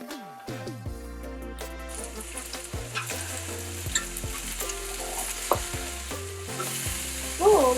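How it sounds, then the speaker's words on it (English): Lo mein noodles being stirred in a pot, a steady soft cooking noise with scraping stirs running under louder background music throughout. "Always remember to stir the noodles for the first minute or 2 to prevent it from sticking together."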